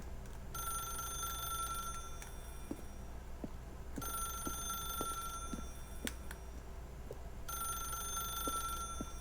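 A telephone rings in The Stanley Parable, its electronic bell tone repeating in three long bursts with pauses between them over a low steady room hum, accompanied by faint scattered clicks.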